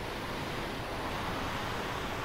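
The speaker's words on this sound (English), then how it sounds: "These waves. It was just swallowing the back of my boat." Ocean waves in the sailing game Sailwind surge against a small boat, a steady, full broadband wash of surf and wind with no voice over it.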